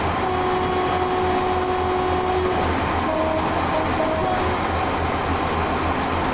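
A train rolls past a freight yard with a steady, loud rumble of wheels on track, and sustained tonal squeals or a distant horn ring out over the noise.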